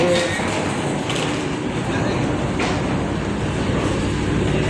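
A steady loud rumble of a metro train arriving in a station in Malaysia, continuous broadband noise with no clear pauses, heard from close by.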